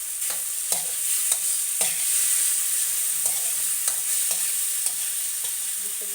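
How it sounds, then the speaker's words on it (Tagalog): Chicken pieces for tinola sautéing in a hot oiled pan, a steady close sizzle broken by repeated scraping stirs of a spatula at irregular intervals, with no talking. "Gisa-gisa mo na. Hanggang sa mag-brown."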